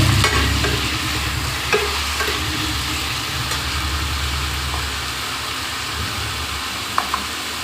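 Food frying in a pan at home is stirred, giving a loud, continuous sizzle and scraping, with a low rumble underneath and a couple of small clinks near the end.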